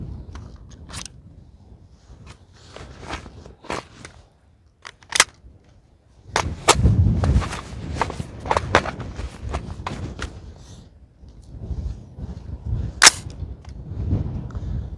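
An AR-15 rifle fires a rapid string of sharp gunshots outdoors, sporadic single shots at first, then a dense volley emptying the magazine, with a few more shots after a pause.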